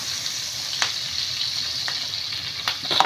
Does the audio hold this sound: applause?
no